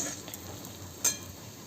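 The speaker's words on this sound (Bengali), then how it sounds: "মোটামুটি রসুনটাও ভাজা হয়ে এসেছে" A steady, hissing sizzle of garlic frying in a pan, with a faint clink of stirring partway through.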